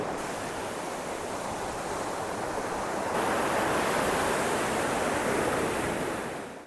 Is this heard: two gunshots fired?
no